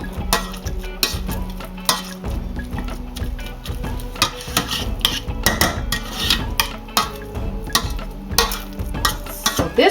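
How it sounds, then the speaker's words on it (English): Sweet potatoes are mashed with a masher in a pot, making repeated close, wet squelching thumps and clinks of metal against the pan in an irregular, steady rhythm. "We're going to mash that all up, all together, okay?"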